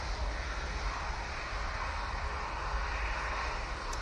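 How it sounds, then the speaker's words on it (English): A KLM Boeing 737 departs Manchester Airport for Amsterdam Schiphol after a night stop, its engines a distant, even rumbling roar that stays constant and fairly faint throughout. "KLM 737 departing back to Amsterdam Schiphol after night stopping"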